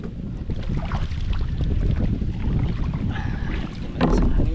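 Strong wind roars and buffets the microphone with a heavy low rumble, while water sloshes and splashes close by throughout.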